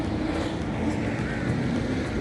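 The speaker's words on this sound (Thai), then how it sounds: "ลมพัดเย็นมาก" Wind blows outdoors across the open grounds of Sanam Luang in Bangkok, a constant loud rushing that buffets the microphone throughout.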